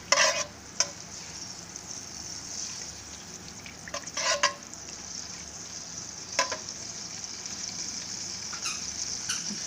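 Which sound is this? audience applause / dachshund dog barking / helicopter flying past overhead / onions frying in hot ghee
onions frying in hot ghee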